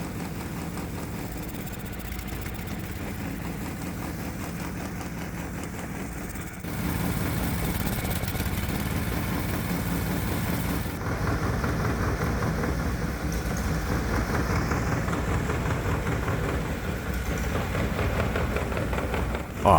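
A Predator 212cc small engine fitted with homemade fuel injection runs steadily at a rough, continuous drone, loud and close, with a slight rise in level partway through and no talking.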